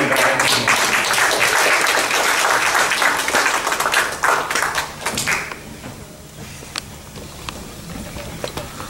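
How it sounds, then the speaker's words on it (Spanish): An audience at a Spanish-language poetry event claps warmly for the members, dense at first, then thinning to scattered claps and fading out. "un aplauso, por favor, para los miembros"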